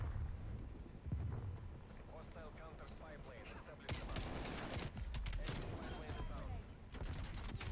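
A grenade goes off during a video game shootout, with several heavy booming bursts and crackling blasts over continuous background rumble while a person keeps talking underneath.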